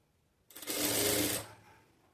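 A sewing machine runs one short burst of about a second, stitching a folded quarter-inch hem on a blouse neckline. The whir is close and rises quickly, then trails off into quiet.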